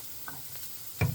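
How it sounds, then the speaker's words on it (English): Garlic sautéing in a hot pan makes a soft, steady sizzle with faint ticks, then a louder burst of frying noise near the end. "Just saute the garlic until it's fragrant"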